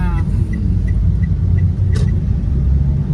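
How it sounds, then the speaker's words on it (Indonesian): A car rumbles and bumps along while driving, with a steady, loud, low rumble throughout and faint voices in the background. "Wong seneng ditumpakno mobil gludak-gludak ngene iki enek."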